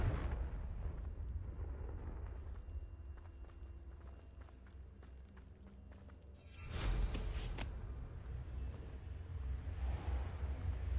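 A Confringo fire spell exploding in the Hogwarts Legacy video game: quiet footsteps and game ambience, then a sudden loud burst and roaring rumble that lingers and trails off over the final seconds.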